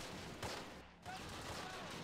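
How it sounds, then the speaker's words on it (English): Small arms gunfire in the video game Close Combat: Wacht Am Rhein, during a South Eifel battle. The shots form a dense, steady, crackling barrage that fills the whole clip, with a brief lull near the middle. "we're pretty much ruining these guys with small arms fire"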